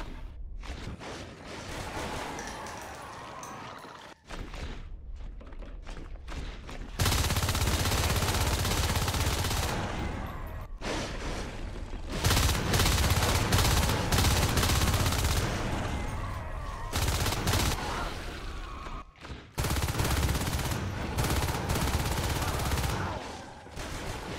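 Gunfire from marines in a video game: sustained bursts of rapid shots that stop and start across the clip, loud and close, with quieter gaps between the volleys.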